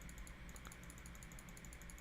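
Computer keyboard or mouse clicks during a day trading backtesting session, a steady run of fast light taps at close range, with no talking.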